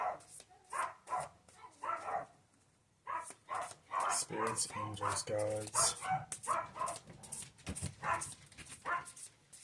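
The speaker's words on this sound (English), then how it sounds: "So if you can hear the dogs barking in the background," Dogs bark repeatedly in the background, a scattered run of yaps and barks half-buried beneath continuous close talking.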